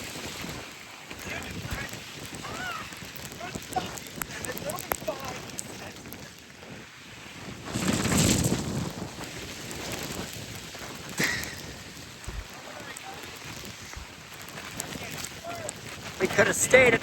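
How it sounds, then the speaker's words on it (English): Rain falls steadily on the Appalachian Trail, a soft continuous patter with occasional wind gusts buffeting the microphone, a louder swell midway through. "nothing to look at because rain"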